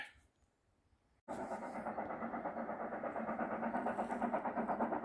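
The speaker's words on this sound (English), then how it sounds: "The train's coming." A steam train on the Moors Railway suddenly comes in after near silence, its rhythmic chuffing and rumble loud and steady, pulsing regularly as it draws close.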